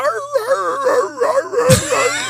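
A human voice imitates the yodeling howl of a Basenji, an exotic dog breed, with a wavering, warbling sung tone held for about two seconds, ending in a brief louder rise.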